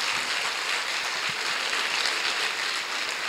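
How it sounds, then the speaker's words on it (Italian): An audience applauds at an Italian public book talk, giving a warm welcome to a professor. The clapping is steady, dense and close, filling the whole stretch with a continuous wash of many hands and no talk. "un grande applauso al professor De Mauro."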